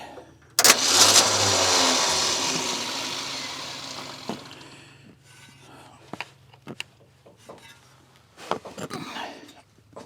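A Ford F600 truck engine cranks and catches after its carburetor is primed, roaring up loud and close, then dying back into scattered knocks and clatters from the engine bay.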